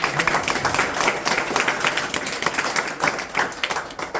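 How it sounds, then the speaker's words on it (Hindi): Audience of students applauding loudly at an Indian school gathering, many hands clapping in a steady, energetic stream for several seconds with slight swells and no talk over it. "आप अपने लिए जोरदार ताली बजा दीजिए, जोरदार।"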